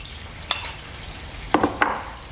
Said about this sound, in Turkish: Normal yoğurdu da karıştırıyorum içine.